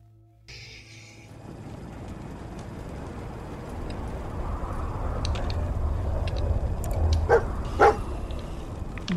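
Dogmeat, the dog companion in Fallout 4, gives a couple of short barks over a low rumbling game ambience, with faint yips and clicks nearby.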